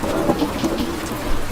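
Heavy rain pours steadily, with low thunder rumbling in a dense, continuous wash, no voices present.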